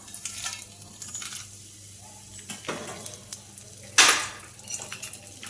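Bay leaf, cinnamon, cardamom and cloves crackle in hot oil with a soft, patchy sizzle, light stirring scrapes, and one sharp clank of a utensil against the pan near the end.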